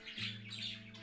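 Birds chirp in a caving video game: a quick pair of bright tweets over a low steady hum, close and clear within about a second.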